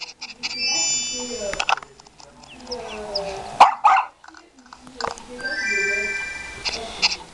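A puppy barking in the Nintendogs + Cats game, Golden Retriever version, with several yips and barks amid chiming game music and effects, while a person speaks French in between.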